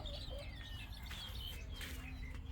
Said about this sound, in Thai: มาดู ลูกไก่สวยๆครับ